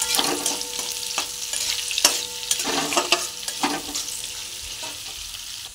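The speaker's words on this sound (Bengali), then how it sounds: "পেঁয়াজটাকে ভালো করে ভেজে নিব।" Chopped onions fry in a pan, a steady sizzle broken by repeated scraping strokes of stirring, close and loud with no talk.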